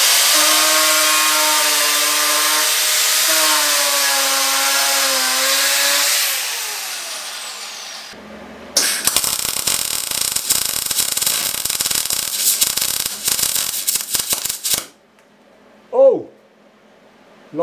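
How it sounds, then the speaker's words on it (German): A power grinder whines steadily against metal on a Turfco sand spreader top dresser for several seconds, winding down, then a harsh crackling welding buzz runs in uneven bursts before cutting off. "Und jetzt schleife ich nochmal kurz rüber, damit ich einen guten Kontakt habe."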